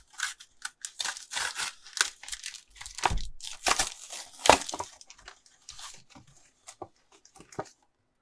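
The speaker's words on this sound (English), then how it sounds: "We'll also go ahead and tear into this Cosmog case." A Pokémon card case, a Cosmog case, being torn open by hand. Close, crinkly rips of plastic and paper come in uneven bursts and then taper off into sparse rustling.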